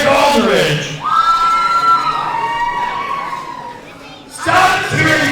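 A wrestling arena crowd cheers and shouts during a no count-out match, a loud sustained roar of voices that swells, dips briefly, then surges again near the end.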